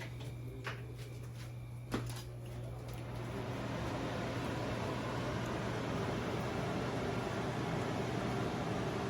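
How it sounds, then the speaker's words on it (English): A kitchen range hood fan switched on while scallops and salmon cook: a steady broadband whoosh that swells after a couple of seconds and holds, with a faint hum and a few clicks near the start, no talk. "hit that fan over there in case?"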